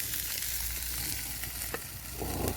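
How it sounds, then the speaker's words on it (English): Food sizzles and fries in a pan over a campfire in the Scottish woods, a steady close crackling hiss with faint stirring scrapes and no talking. "Oh, sizzling. Sizzle-tastic."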